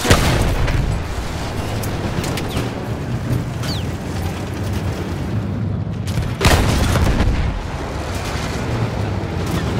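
Booming field gun artillery fire in the World War I shooter Battlefield 1, a dense, continuous roar of heavy blasts with a sharp, louder burst about two-thirds of the way through, loud and close with no talking.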